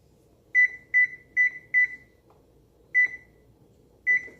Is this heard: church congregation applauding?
no